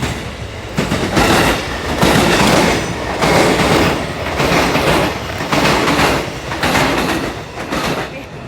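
A train rolls past close by, a steady loud rumble with rhythmic clatter pulsing about once a second through the whole stretch, with no talk over it.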